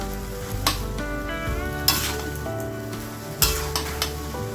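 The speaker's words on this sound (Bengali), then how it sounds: "এভাবে আমি মশলাগুলো ঘুগনির সাথে ভালো করে মিশিয়ে নিচ্ছি। তো ভাজা ভাজা করে নেব।" Ghugni stirred and fried with vegetable spice masala in a pan, a steady sizzle broken by a few sharp scrapes and clinks of the spoon against the pan, close and alone.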